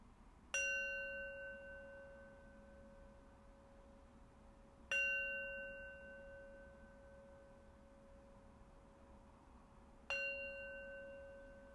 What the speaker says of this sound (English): we'll draw our practice to its close with 3 rings of the bell